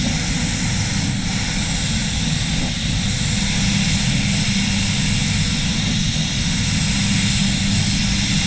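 A SATA spray gun laying down Soul Red Crystal paint in a spray booth gives a constant loud, broadband hiss of air and atomised paint, steady and unbroken throughout with no talking.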